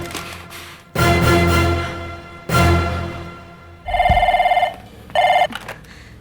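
A telephone rings with bursts of trilling electronic tones, first long and then short, near and loud, following heavier dramatic musical hits in a tense domestic scene.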